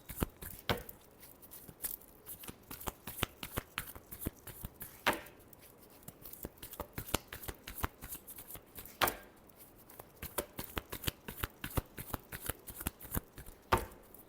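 Tarot cards being shuffled by hand, a series of sharp riffling snaps and soft flutters repeating at irregular intervals, close and fairly quiet with no voices.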